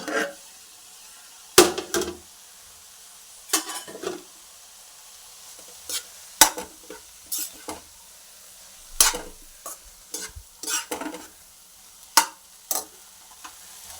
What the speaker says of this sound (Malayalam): നല്ലതുപോലെ ഒന്ന് ഇളക്കി ഇളക്കി കൊടുക്കാം